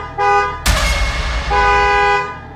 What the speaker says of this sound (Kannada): ಅವ್ರ ಹಸ್ಬೆಂಡದು ಕಾರ್ ಹಾರ್ನ್ ಸೌಂಡ್